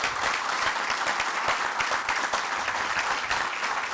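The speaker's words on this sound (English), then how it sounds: "let's give everybody who made this day possible another round of applause as well" An outdoor audience at the Irishtown Bend river stabilization project groundbreaking ceremony gives a round of applause, steady continuous clapping from a sizable crowd, even in loudness from start to finish with no speech over it.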